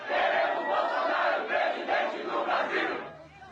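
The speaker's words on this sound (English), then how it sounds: "the rapturous applause he's receiving as he travels the country" A large crowd at a political campaign rally roars and cheers continuously, a dense wash of voices swelling in waves, with scattered claps beneath.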